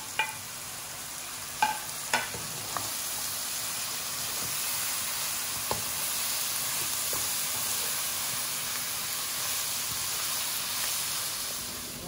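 Medan anchovies stir-fried with Chinese chives in a pan, a steady low sizzle and hiss with a few sharp scrapes and clinks of the spatula near the start, no talking.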